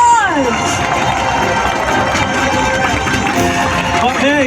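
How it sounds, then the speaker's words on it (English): Spectators at the Singapore National Day Parade cheer and shout after naval divers land, a loud, continuous crowd roar that stays close and steady for a few seconds. "Please give them a rousing round of applause."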